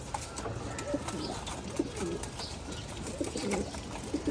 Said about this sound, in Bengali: কবুতরগুলো খাইতেছে